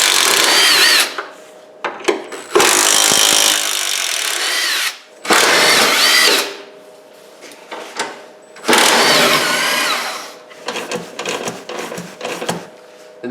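A power drill whirs in repeated loud bursts of a few seconds each, separated by short pauses, as it backs out 10mm bolts from the metal radiator holder on a Jeep Cherokee XJ. The final bursts are quick and stuttering.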